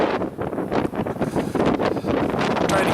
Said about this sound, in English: Trying to get out of the wind.